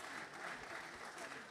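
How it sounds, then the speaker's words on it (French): Faint applause rises from the audience at a political candidates' forum, a brief, soft patter of clapping heard from a distance, with a murmur of voices mixed underneath. "Vous pouvez les applaudir."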